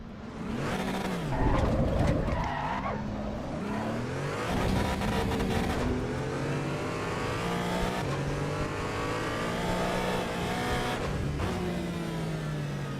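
A race car spins out in the Assetto Corsa EVO driving game at the Nürburgring, its engine revving and swooping in pitch with squealing tires, loud and continuous without speech.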